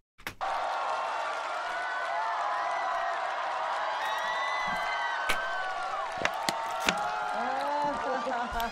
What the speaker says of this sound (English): everyone's clapping before he's even started